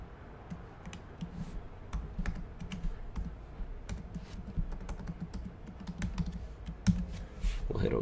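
A password is typed on a computer keyboard: a quiet, close run of quick, uneven key clicks and taps for about eight seconds, with no talk.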